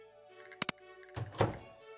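A couple of sharp thunks followed by a short creaking, scraping swish as a door is pushed open in the game Stardew Valley, over a faint musical background.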